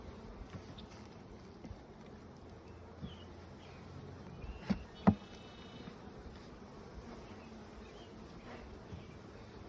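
Honeybees in an opened packaged hive hum as a soft, steady drone under light outdoor breeze, with a couple of brief nearby clicks or knocks partway through.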